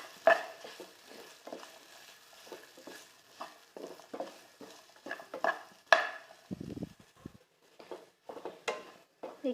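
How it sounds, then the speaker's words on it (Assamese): A bread cone filling with green chilli sauce is stirred in a pan, giving irregular soft scraping and clinking knocks of a utensil against metal over a faint sizzle, with no voices. "এতিয়া এইখিনি অলপ টাইম লৰাই থাকিম।"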